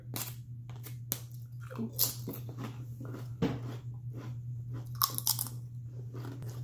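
Flaming Hot Nacho Doritos chips being bitten and chewed close up, with crisp irregular crunches throughout over a steady low background hum and no talking.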